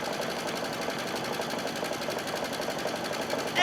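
An embroidery machine stitching a quilted basket in the hoop, a close, continuous rapid mechanical whir with a fast even stitching rhythm, running steadily on its own.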